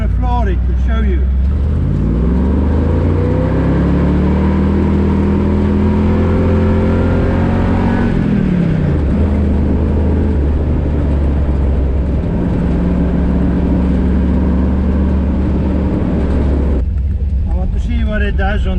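A car floors it in second gear on a sand dune, its engine roaring loud and close as the revs climb steadily for several seconds, drop at a shift, then hold a strained, droning pull until the end.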